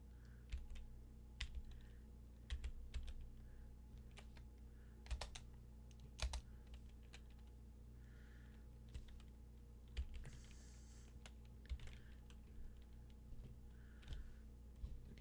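Computer keyboard keys tapped as game controls for Super Mario World, a sparse run of close, crisp clicks in irregular bursts over a steady low hum.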